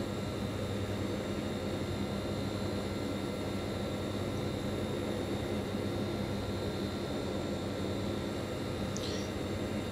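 HS748 turboprop engines at cruise power in a flight simulator, a steady droning hum with tonal whine that stays constant and fairly faint throughout.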